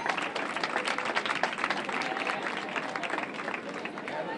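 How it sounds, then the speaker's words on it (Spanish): Dense crowd applause for winners at the prize ceremony of a popular running race marking a base's 60th anniversary, a steady outdoor roar of many hands clapping with some voices in the crowd. "Fuerte aplauso."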